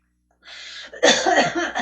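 A short breathy exhale followed by a single harsh, forceful cough close to the microphone.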